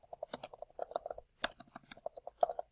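Fast bursts of typing on a computer keyboard while a title and notes are entered in a text editor, with crisp, close keystrokes in two quick runs separated by a brief pause.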